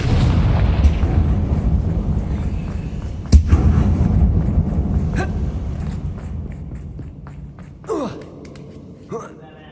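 A Confringo blasting spell in Hogwarts Legacy detonates in one sharp, loud blast amid heavy low rumble, then the din gradually thins, with a few brief voiced gasps and grunts near the end.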